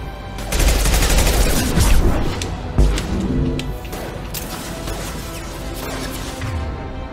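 Rapid bursts of gunfire in a Mass Effect 2 firefight, loud and close, with dense rattling volleys and sharp impact cracks filling most of the stretch, one heavy blast near the middle.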